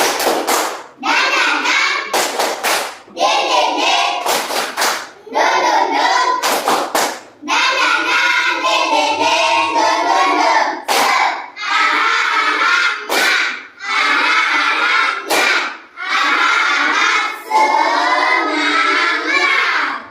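A standing class claps together in a steady, rhythmic spirit-clap pattern, loud and close, in repeated bursts separated by brief pauses.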